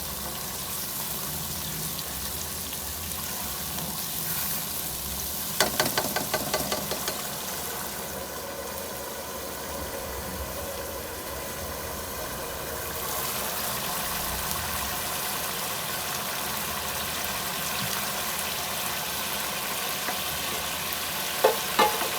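Masala spice paste frying in a pan for kofta curry gives a steady, close sizzle throughout, with a few brief clinks of a utensil against the pan and no one speaking.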